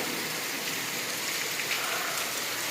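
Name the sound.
rain falling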